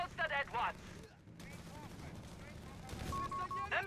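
Heavy machine gun fire in the strategy game Company of Heroes 3 rattles in short bursts amid battlefield effects, with a caster speaking over the action.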